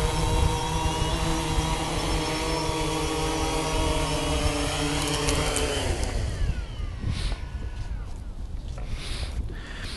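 A DJI Phantom 2 V2 quadcopter with new motors comes in to land, its steady whining rotor drone loud at first, then the pitch sweeps and the motors spin down partway through, leaving quieter background rustle.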